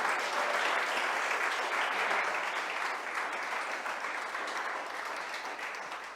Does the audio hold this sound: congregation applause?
yes